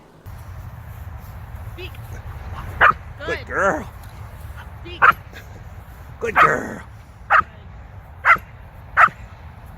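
A female dog gives repeated short barks and yips on command at intervals during training, close by, with a person speaking encouragingly between them over a low background hum.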